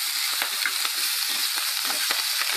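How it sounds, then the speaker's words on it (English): Bacon, diced onion and garlic browning in a pan for bubble and squeak give off a steady, close, crackling sizzle, with a few faint stirring clicks scattered through it. "Just browning that off"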